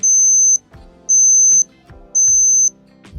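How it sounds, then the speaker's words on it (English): Digital fever thermometer beeping: three even, loud, high-pitched tones, each about half a second long, separated by short pauses, with faint room noise between them. "like this beeping sound"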